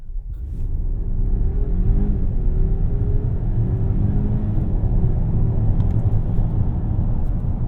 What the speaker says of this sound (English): Do a quick 0 to 60.